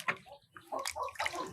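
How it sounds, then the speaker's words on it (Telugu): An ash gourd is washed in water, with brief close splashes, sloshing and rubbing in short bursts, alone without talking. "ఇప్పుడు ఈ గుమ్మడికాయను మనము శుభ్రంగా నీళ్ళలో వేసి కడిగి నుగ్గుదాం బాగా."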